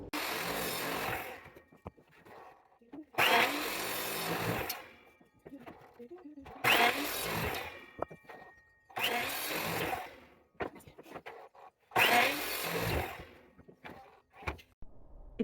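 A power saw cuts wood pieces for card holders. Five loud, roughly second-long cutting bursts are separated by short quiet gaps and faint handling sounds.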